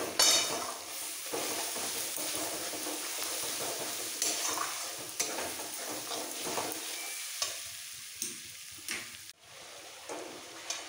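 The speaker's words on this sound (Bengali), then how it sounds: "এবার একটু কষিয়ে নেব।" Spices with coriander powder and a little sugar for a soybean curry sizzle in a hot pan while a utensil scrapes and stirs, a steady fry broken by repeated sharp scraping strokes, close and alone without talk.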